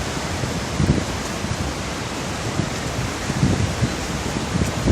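Niagara Falls roars as a steady, loud wall of rushing water, continuous and even throughout with no voices over it.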